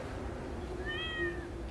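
A single cat meow, drawn out and rising then falling, fairly clear over a steady low background hum.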